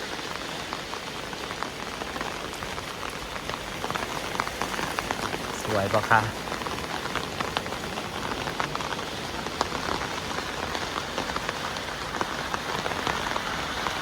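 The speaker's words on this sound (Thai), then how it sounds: "บรรยากาศฝนตกที่บ้านสวนเรานะคะ" Heavy rain pours steadily on a garden house, a dense, even hiss of drops on surfaces that never lets up, and someone speaks briefly partway through.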